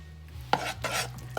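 Homemade playdough mixture stirred in a pot, with a spoon knocking and scraping against the pot in a few soft, close strokes and no talking.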